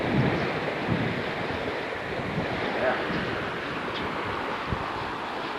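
Wind and waves on a river in the Amazon, a steady broad rushing wash with soft gusts and a few faint knocks, continuous and moderately loud, no clear talk.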